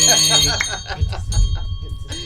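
Small bell rung in a radio studio on a morning show to welcome a guest, bright metallic rings sounding close over people talking.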